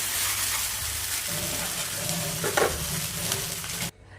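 Fried chicken pieces stirred through masala in a pan, a steady close sizzle with scraping stir strokes and a brief louder clatter near the end before the sound drops away.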